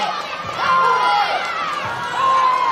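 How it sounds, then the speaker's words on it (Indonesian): Spectators at a student swimming championship cheer and shout loudly, a dense crowd roar full of high children's and young voices, rising and falling in waves and filling the space throughout. "Mulai terdengar suara sorak-sorak ria."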